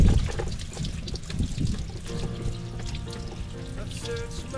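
Water runs into a container with a gurgling trickle and splash that settles into a steady pour, rising slightly in pitch as it fills, close and moderately loud.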